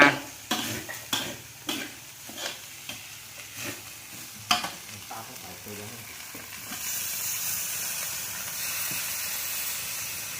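Lizard meat sizzling and frying in a pan, with a series of scraping stirs early on, then a steady hiss of cooking.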